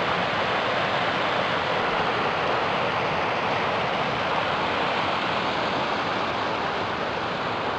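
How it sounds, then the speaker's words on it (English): Rushing water where a stream flows into the Miramichi River, a dense, steady roar of flowing water at close range with no pauses and no voices. "Oh, I love the sound of the rushing water."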